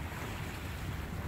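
Ocean surf washes along Songjeong beach as a steady, unbroken roar of breaking water, mixed with rough wind buffeting the microphone, with no voices.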